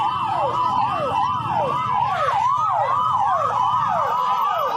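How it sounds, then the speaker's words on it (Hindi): Wailing sirens on several motorbikes clearing the India Gate grounds, loud and continuous with overlapping rising and falling sweeps over a steady background rumble. "सायरन बजा बजा के खाली करवाया जा रहा है।"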